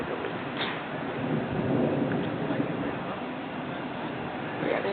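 Thunder rumbles through a severe storm, a steady broad roar of rain and distant rolling thunder filling the whole stretch without clear separate claps.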